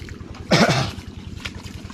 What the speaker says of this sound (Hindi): देखिए यही पानी चल रहा है अभी।